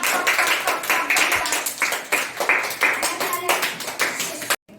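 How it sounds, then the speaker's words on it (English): Children in an activity class clap their hands in quick, uneven bursts for several seconds. The claps are close and loud, with voices talking among them, and they stop abruptly at the end. "Clapping."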